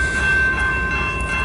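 CN mixed freight train rolling past, a steady rumbling drone with a faint high whine from the wheels, continuous and close for the whole short stretch.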